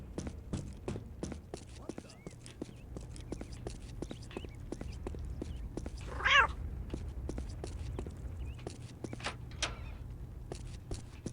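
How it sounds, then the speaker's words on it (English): A cat meows once in the video game Postal, a short sharp yowl amid steady game ambience and clicking footsteps. "Goddamn cat."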